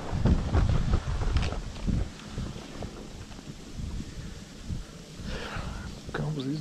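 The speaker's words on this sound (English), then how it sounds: "Comes these raging ass winds." Strong gusty wind on a golf course buffets the microphone in loud rumbling bursts, with people talking over and between the gusts.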